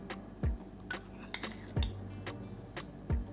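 Metal spoon clinking against a bowl while flour is measured out for harira, several sharp, close clinks at uneven intervals, each with a short low thump.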